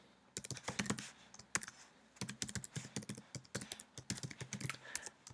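Someone types an email address into a sign-in page on a computer keyboard. The keystrokes come as quick, clear, irregular clicks in bursts with short pauses, close up and with no talking.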